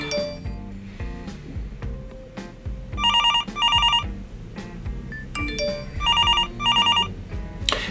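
A telephone rings in repeated double bursts of bright electronic trilling, two pairs close together around the middle and another two near the end, over a steady background hum.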